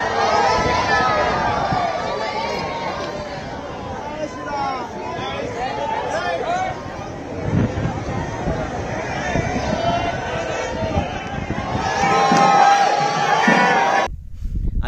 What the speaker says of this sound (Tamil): மோடி அவர்களை எப்படியாவது பாத்திர மாட்டோமா என்ற ஆரவாரம் அவங்களுக்குள்ள இருக்கிறது